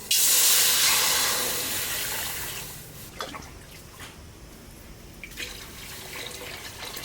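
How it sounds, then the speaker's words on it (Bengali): Water is poured into a hot wok for cooking broken-rice khuder bhaat, a loud hissing rush at first that quickly settles into softer bubbling and faint drips and clinks, no talk. "এবার কড়াইতে জল দিয়ে দেবো।"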